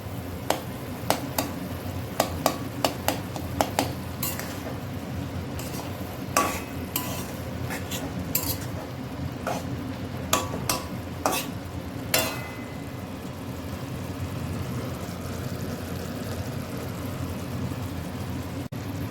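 Chicken with green chillies being stir-fried in oil, steady sizzling bed with repeated sharp clinks and scrapes of a spatula against the pan, fairly close, no talk.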